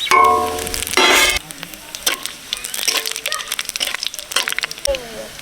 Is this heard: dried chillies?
yes